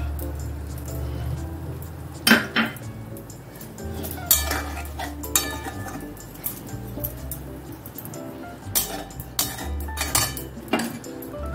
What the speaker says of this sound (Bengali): এই বাটি ধোয়া জলটা দিয়ে দিলাম।